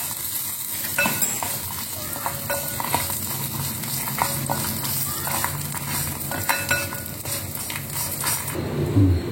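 Urad dal, tamarind and coconut stirred in a hot pan after the gas is switched off, a steady low sizzle under continuous scraping and occasional clinks of a spoon against the metal.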